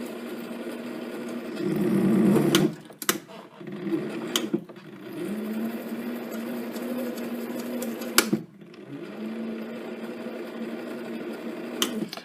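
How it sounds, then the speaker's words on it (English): Lathe motor running a tap held in the chuck while threading a steady rest part, with a steady hum that stops and restarts as the motor is reversed back and forth, with brief clicks at each change of direction. "I'm just reversing the motor back and forth to clear the chips out."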